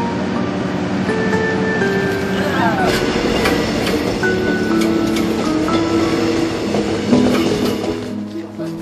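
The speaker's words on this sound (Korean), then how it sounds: "열차가 마침내 목적지에 도착합니다." A train on the Yeongdong Line pulls into a seaside station, a steady loud rumble of wheels and carriages with faint squeals and clanks, while voices murmur beneath the noise.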